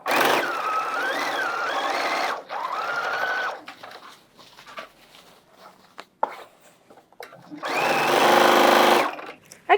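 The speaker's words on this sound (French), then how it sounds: "je vais vous montrer à la machine à coudre comment bien faire la finition de vos poches" A domestic sewing machine stitching a side seam toward a pocket on a garment, whirring in loud sustained runs with rising and falling speed, separated by quieter pauses with small handling clicks.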